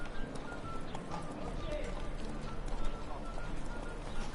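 Roach the horse gallops in The Witcher 3, a steady rapid beat of hooves over a continuous ground rumble, mid-distance and moderately loud, with speech mixed in.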